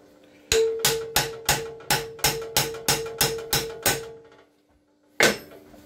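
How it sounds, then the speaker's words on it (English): A brass drift is hammered to seat a part in a Case Ingersoll tractor snow blower mule drive, giving eleven evenly spaced, ringing metallic strikes in a steady rhythm, then a pause and one final blow, loud and close. "I'm going to use a brass drift here just to work it in the rest of the way"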